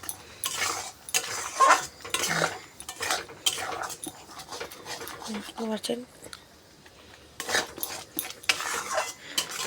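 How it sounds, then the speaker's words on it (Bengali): Spice paste for chicken curry is stirred in a pot over the gas flame, with repeated scraping and metal clatter and a faint sizzle underneath, mostly under a person talking. "মশলাটা ভাজা ভাজা করে নেব"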